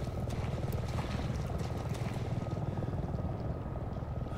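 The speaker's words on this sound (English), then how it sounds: "A little unusual to see a chopper flying around." A helicopter flies around in Resident Evil 7, heard as a steady, dense rotor and engine roar that stays continuous and fairly even throughout, with no talk.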